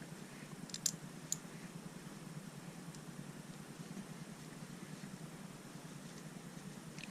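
Small Lego pieces, hose-nozzle parts for a Star Wars Bounty Hunter Assault Gunship polybag set, snap on with two quick, sharp plastic clicks early on, then only a faint steady hiss remains.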